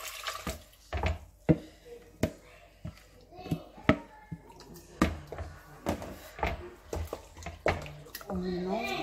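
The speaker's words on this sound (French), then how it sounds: "On rajoute ensuite de l'eau." Water is poured into a cooking pot for a Congolese malangwa fish broth, with splashing and clattering kitchen sounds as a voice talks over the pouring.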